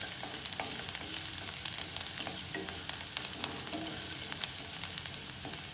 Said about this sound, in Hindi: अभी गार्लिक डालूँगी। फाइनली चॉप्ड गार्लिक है ये, इसको थोड़ा सा फ्राई करेंगे अच्छे से।